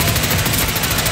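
Gunfire in the Hitman 3 video game, a dense loud burst of rapid shots packed together over about a second, close and continuous.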